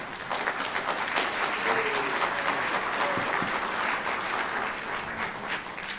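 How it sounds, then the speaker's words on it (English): Audience at an elementary school winter concert gives a steady round of applause, a continuous crackle of many hands at moderate volume. "So a huge round of applause for them for all they do."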